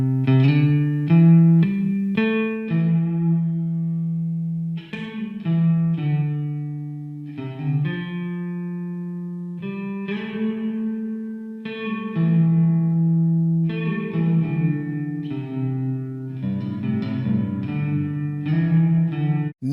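Sustained synth or guitar-like tones play a slow melodic line through the Samford Reverb plugin with a lush reverb tail, notes ringing and blending into a spacious wash.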